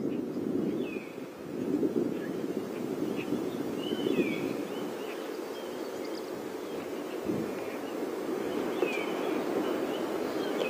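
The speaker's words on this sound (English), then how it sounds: "You hear the wind" Wind blows steadily outdoors on a safari drive at the tail end of a cold front, a constant low rushing over open bush, with faint bird chirps scattered on top and no talk.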